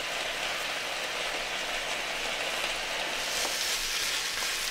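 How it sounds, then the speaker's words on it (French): Onions softening and lightly colouring in a pan give a dense, even hiss of frying, close and constant for a few seconds, with no voices over it. "Il faut que les oignons perdent leur haute végétation, qu'on les colore légèrement"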